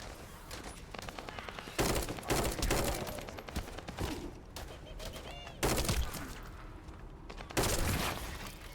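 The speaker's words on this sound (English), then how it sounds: "Stop the gunfire." Gunfire in the video game The First Descendant: repeated bursts of rapid automatic shots, loud and fairly close, broken by short gaps and mixed with game effects.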